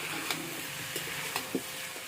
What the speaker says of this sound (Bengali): এইবার সবজিগুলোকে ভেজে নেব।